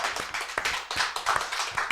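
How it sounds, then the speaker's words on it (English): Audience clapping loudly at a live comedy show to vote, a steady burst of many hands with rapid, uneven claps filling the room and no talk over it. "just clap real loud"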